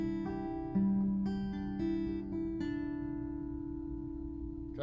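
Several picked guitar chords strike one after another, their notes sustaining and ringing out together before slowly fading, with no voices.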